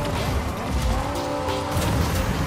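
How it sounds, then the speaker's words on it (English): Drifting car in a racing video game, tires squealing in a steady, sustained whine over a continuous engine roar, loud and close throughout with no pauses. "I'm just gonna drift around this whole thing."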